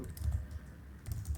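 Steady computer keyboard typing of JavaScript code, soft close clicks in quick irregular bursts across the whole moment, with no voices.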